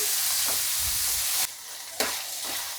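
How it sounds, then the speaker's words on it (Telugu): Ivy gourd pieces fry in a pan, with a dense hissing sizzle that suddenly dips quieter partway through, broken by a couple of sharp stirring knocks; close and continuous with no voices. "నెక్స్ట్ మనం దొండకాయ ముక్కలు వేసుకుందామండి. వీటిని ఒక 10 మినిట్స్ బాగా మగ్గే వరకు వేయించుకోవాలి."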